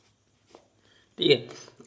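Brief scratchy strokes of writing on a board during a classroom lesson, a short burst near the end heard alongside a teacher's voice.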